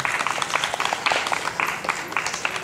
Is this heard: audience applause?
yes